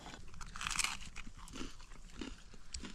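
Corn on the cob is being chewed close up, with crisp, crunchy bites and wet chewing in uneven bursts over a quiet outdoor background.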